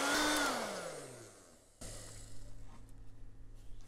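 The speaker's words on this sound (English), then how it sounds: "now I can use hair dryer again." A hair dryer blows loudly with a falling whine as it winds down and cuts off, then a softer motor hum starts up and runs steadily, while drying layers of coffee-mixed air dry clay.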